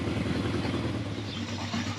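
A 1979 Kawasaki KZ motorcycle, freshly restarted after seven months of storage, idles with a steady low rumble close by.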